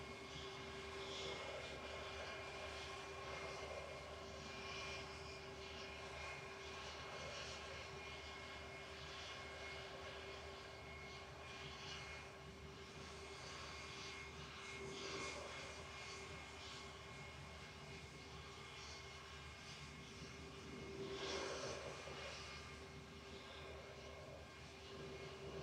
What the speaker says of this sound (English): Should be nice and loud, this spool up in front of us.